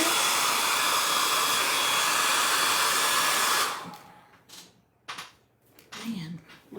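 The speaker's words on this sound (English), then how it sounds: "I'm gonna hit this one with the heat, the hair dryer, just real quick" Hair dryer blasting hot air over a chalk ink transfer, a loud steady whoosh lasting a few seconds before cutting off abruptly, followed by faint handling clicks and brief speech.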